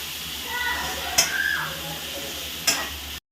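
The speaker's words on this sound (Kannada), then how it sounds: "ಖಾರದ ಪುಡಿ ಹಾಕಿ ಚೆನ್ನಾಗಿ ಫ್ರೈ ಮಾಡಿಕೊಂಡು" Food frying with chilli powder in a pan, a steady close sizzle with two sharp clinks of a utensil against the pan as it is stirred, ending abruptly.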